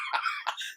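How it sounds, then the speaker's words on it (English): Two quick, raspy coughs sound close by, short bursts separated by a brief pause. "I'm trying not to cough"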